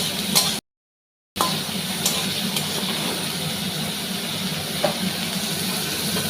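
Eggplant frying in fish oil in a pan, a steady loud sizzling hiss close by, broken by a brief silent gap near the start before the sizzle resumes.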